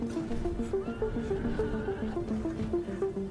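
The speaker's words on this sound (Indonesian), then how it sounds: "Zeus juga memberikan Pegasus, sebuah kuda terbang yang melegenda itu." Pegasus, the legendary flying horse, neighs in a fairly loud, sustained whinny that runs the full length with a wavering, repeating tonal pattern and no voices.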